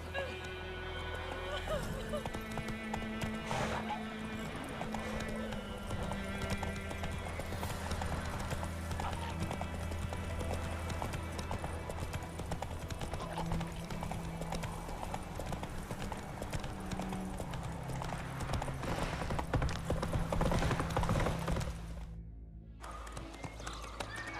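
Roach, the horse in The Witcher 3: Wild Hunt, moves on hooves in a rapid, steady clip-clop rhythm over a game score and ambient sounds, with voices speaking now and then and a brief drop near the end.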